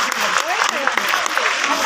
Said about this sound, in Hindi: एक बार जबरदस्त ताली होना चाहिए आपके लिए।